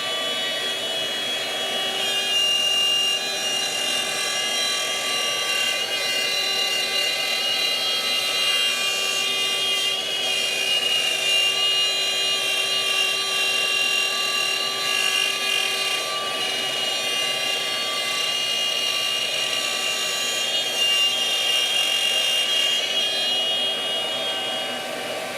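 A Shaper Origin handheld CNC router cuts a wood inlay on a round surface, giving a steady, loud, continuous high-pitched whine with a buzzing motor tone that holds for the full stretch and tapers near the end.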